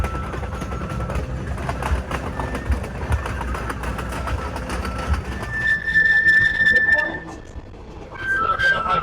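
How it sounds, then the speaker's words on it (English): A train rolls through jungle valleys in the Andes toward Aguas Calientes, with a steady low rumble of wheels and engine, chatter in the carriage and a clear whistle-like tone rising partway through. "the train ride really felt kind of magical"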